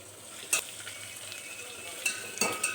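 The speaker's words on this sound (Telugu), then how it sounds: "కరివేపాకు కూడా ఇప్పుడు ఉల్లిపాయల్లోనే వేగుతాయి" Sliced onions and curry leaves frying in hot oil for a bitter gourd tamarind curry, with a steady close sizzle and a few sharp clinks of a spoon stirring against the pan.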